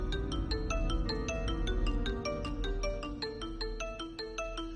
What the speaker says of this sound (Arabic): موبايل كنتنا بيضلوا بيرن.